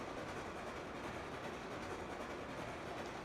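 A train runs in a railway simulation game, giving a steady, unbroken rumble with a faint rhythmic clatter of wheels throughout, with no voices.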